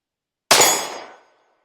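A single sharp metallic ring from a pistol round striking an 8-inch steel plate target at an outdoor range, a loud clang that decays over about half a second, with no talking.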